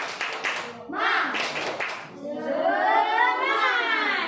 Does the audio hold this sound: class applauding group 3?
yes